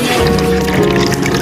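Water pours steadily from a homemade dispenser built from recycled materials and wood board, a continuous close liquid stream with a faint background hum, no talk over it.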